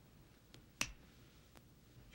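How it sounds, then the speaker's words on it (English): A single sharp finger snap, close and crisp, rings out in an otherwise quiet room with faint ticks before and after. "I'm going to snap my fingers"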